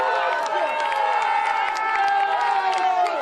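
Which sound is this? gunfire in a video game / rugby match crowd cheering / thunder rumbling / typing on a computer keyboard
rugby match crowd cheering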